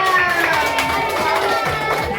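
Children clap and cheer for a third-place winner at a neighbourhood children's gathering, a busy burst of close applause mixed with excited voices and chatter.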